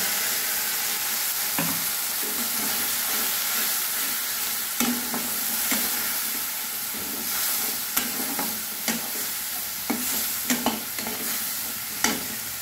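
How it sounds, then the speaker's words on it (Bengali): Ground spice paste goes into a hot pan with potatoes frying in it. A steady sizzle runs underneath, broken by repeated sharp scrapes and knocks of a spatula stirring at irregular intervals. "বেটে রাখা মশলাটা আমি দিয়ে দিচ্ছি।"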